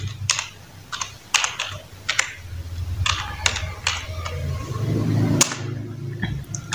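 Computer keyboard keys clack in short irregular bursts of typing, close and fairly loud over a low background hum, with brief pauses between words.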